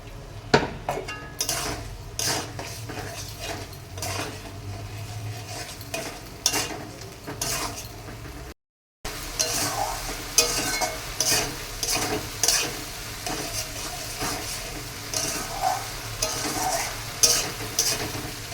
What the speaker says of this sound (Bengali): একটু জল দিয়ে কষাই নি।